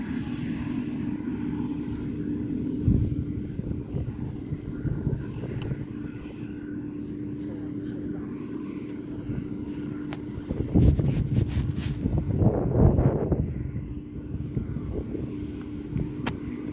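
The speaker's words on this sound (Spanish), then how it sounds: "Y bueno, la avioneta que nos puede faltar." A light aircraft passes overhead, its steady engine drone carrying on beneath garden ambience and swelling louder for a moment near the end.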